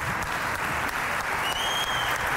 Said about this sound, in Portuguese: eu pedia uma última salva de palmas de hoje, de pé